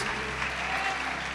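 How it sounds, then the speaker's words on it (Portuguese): Church congregation applauding during a worship service, a steady, dense wash of clapping that fills the whole short stretch at moderate level with no voices on top. "Quem é a igreja pode aplaudir e glorificar"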